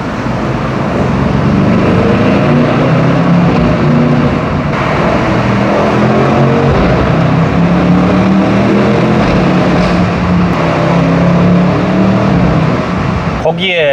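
A BMW M850i Gran Coupe accelerates while driving through a tunnel in traffic, its engine note a dense, loud, steady roar with road noise, and someone talks over it.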